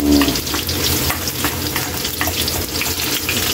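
Garlic sizzles loudly in hot oil in a pan for pork menudo, a close, continuous crackling fry with light stirring scrapes throughout.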